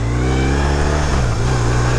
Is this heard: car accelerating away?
yes